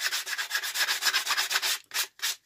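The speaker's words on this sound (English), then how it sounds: "We'll get the little Dremel on, and then we'll just do a bit of sanding down on these sides" A small Dremel rotary tool sands the sides of a scroll-sawn wooden cutout inlaid with resin, a close, gritty rasp that pulses in quick regular strokes, then breaks into a few separate passes with short pauses.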